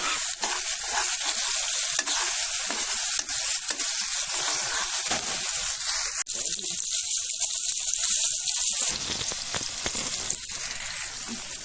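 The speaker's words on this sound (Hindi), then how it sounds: "प्याज और टमाटर को फ्राई कर लेंगे, हल्का ब्राउन होने तक फ्राई करते रहेंगे।" Onion and tomato sizzling in a pan as they fry toward light brown, a loud continuous hiss with intermittent stirring scrapes and a brief drop in intensity partway through.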